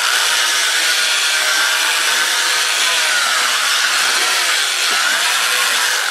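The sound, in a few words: wood lathe bowl sanding with abrasive pad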